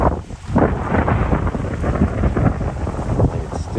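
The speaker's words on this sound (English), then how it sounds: "And it's still windy out here, as you can tell." Strong wind buffets the microphone in loud, rumbling gusts, roaring continuously outdoors.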